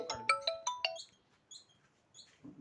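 A mobile phone ringtone plays alone in a room as a rapid run of bright electronic chime notes, then softer repeated tones that fade out, with some faint noise at the end.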